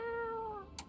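A single drawn-out cat meow sounds as a game cat is petted, clear and fairly close, tapering off and ending in a brief soft noise.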